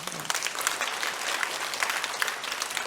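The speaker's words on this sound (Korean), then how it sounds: "우리 찬양팀에서 박수 한번 해주세요." A church congregation claps steadily and warmly for a few seconds for the worship team, dense and even, with no voices rising above it.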